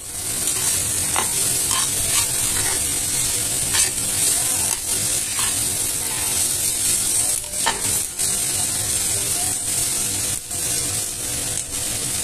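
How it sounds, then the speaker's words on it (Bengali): Egg curry masala sautéed in a pan over medium heat, a loud steady hiss of frying with frequent spatula scrapes and stirring strokes throughout, no speech. "তা খুব ভালো করে আমি কষিয়ে নিচ্ছি।"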